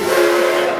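Steam whistle of the 4-4-0 Edison No.1 locomotive, a single loud sustained harmonic blast, close and alone.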